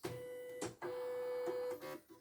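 A portable embroidery machine in a repair shop runs with a steady mechanical whine, broken by several short clunks and pauses as the needle works in bursts, faint and close, with no talking.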